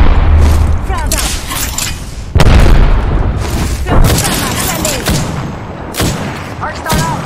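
A frag grenade detonates with heavy booms amid bursts of gunfire in the shooter game Apex Legends, loud and close, repeated blasts and rattling shots with voices talking over the action.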